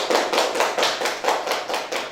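Students in a classroom clap for a classmate named Rahma, a short burst of about eight fairly even, close claps with no talking.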